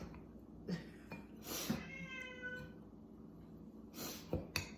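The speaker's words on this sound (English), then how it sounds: "He's our cat, which he adopted us." A pet cat meows several times in a home kitchen, close and moderately loud, with a long drawn-out meow in the middle and quieter background voices.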